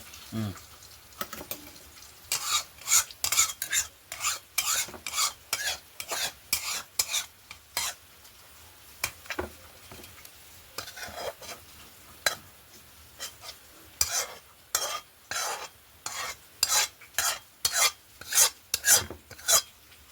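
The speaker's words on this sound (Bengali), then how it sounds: "আমার এই কাতলা মাছটা ভাজা হয়ে গেছে" Close sizzling of katla fish frying in a pan broken by a steady run of sharp scraping strokes, like a spatula turning the fish in hot oil.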